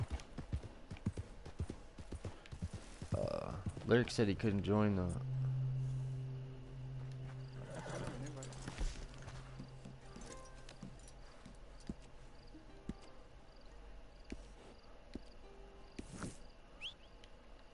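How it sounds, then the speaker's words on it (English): A random horse in a video game clip-clops with a quick run of hoofbeats, followed by snorting and in-game tones and effects, with a short spoken line over the game sound. "this is a random horse."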